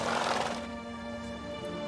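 A horse in The Witcher 3 gives a single whinny, loud at first and then trailing into a sustained tonal ring that fades slowly, with no voices.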